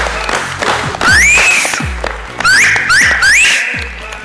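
A studio audience applauds to welcome guests onto a comedy talk show set, with scattered claps mixed with a series of rising whistles and crowd noise at close range.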